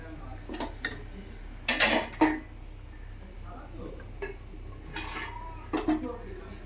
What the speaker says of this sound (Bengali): এবার এটা ঢেকে দেব কিছু সময়